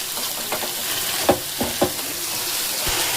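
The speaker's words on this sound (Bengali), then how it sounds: "এবার এটাকে একটুখানি 1 মিনিট মতো ভেজে নিব। আপনি হাই ফ্লেমে ভেজে নিন" Whole spices frying in hot oil over a high flame, a steady crackling sizzle broken by a few sharp stirring clatters of a spoon against the pan, with no voices.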